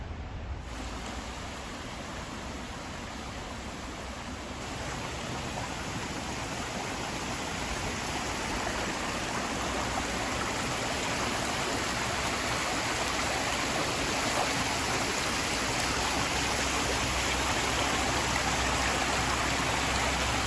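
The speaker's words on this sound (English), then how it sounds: "Hear how loud the water is." Loud rushing creek water at a treacherous horse crossing, a steady dense roar that stays near and continuous throughout with no voices.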